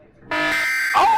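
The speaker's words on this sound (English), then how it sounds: "You could hear like the iPhone alarm ringtone and like the EAS alert thing." A loud, harsh EAS-style emergency alert tone from a creepypasta remake blares steadily for about a second, then shifts pitch abruptly at the end.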